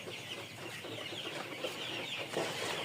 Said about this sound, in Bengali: চলুন একটু মুরগি দেখে আসি মুরগিরা কি করছে।